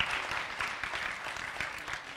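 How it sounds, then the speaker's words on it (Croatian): An audience applauds a primary school at a children's conference, giving a soft, steady patter of many hands clapping at a distance. "Jedan veliki aplauz za osnovnu školu Osman Nuri Hadžić."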